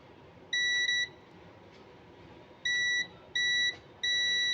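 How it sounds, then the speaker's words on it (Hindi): A UNI-T UT33D+ multimeter sounds its continuity test beep with shorted probes, four steady high-pitched beeps of varying length, clear and close over a faint background. "अब देखिए मैंने इसको शॉर्ट करके रखा था इसलिए बीप की आवाज़ आ रही थी।"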